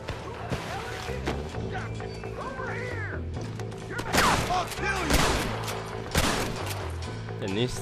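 Gunfire in the Red Dead Redemption video game, several sharp shots and bursts in a short exchange with game sound effects and background music, with a voice talking over parts of it.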